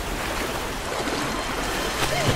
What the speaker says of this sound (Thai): เฮ้ย น้ำไหลแรง